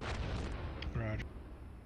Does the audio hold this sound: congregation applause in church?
no